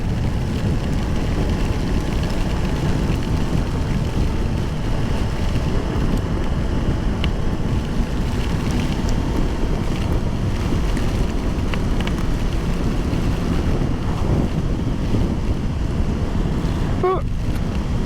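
Steady heavy wind roar and rain buffeting while riding a Voge DS 525 X motorcycle through a torrential downpour, a dense continuous wash of noise throughout with no clear speech.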